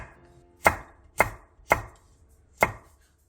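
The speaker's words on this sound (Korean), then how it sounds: "양파 2분의 1개를 1cm 정도 두께로 채 썰고 청양고추 2개는 길게 어슷 썰게" A knife slices onion and Cheongyang chili peppers on a cutting board, four crisp, evenly spaced chops standing out clearly against a quiet kitchen background, with no voices.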